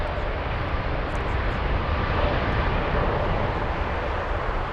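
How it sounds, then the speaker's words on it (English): A Lufthansa Boeing 787 Dreamliner takes off at Frankfurt Airport, its engines making a loud, continuous broadband roar that holds steady throughout without a break. "Let's listen to the Dreamliner taking off."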